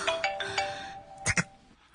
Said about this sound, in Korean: 전화 또 왔네